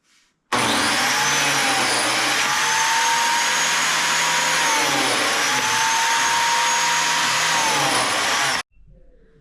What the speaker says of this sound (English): Then I'm able to just grab the biscuit cutter and cut some biscuits.